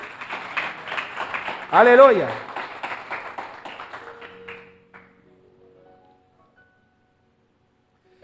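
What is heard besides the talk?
audience applause in a church service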